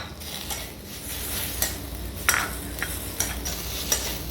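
Vegetables with beetroot, carrot and ginger garlic paste frying and being stirred in a pan: a continuous sizzle with repeated scraping clinks of the spoon against the metal, close and fairly loud.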